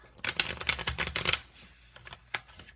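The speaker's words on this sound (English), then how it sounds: "you can have the spectator shuffle the deck up" A spectator shuffles a deck of playing cards for a card trick, giving a quick rapid riffle of crisp clicks for about a second, then scattered faint taps and one sharp snap, close by with no talk.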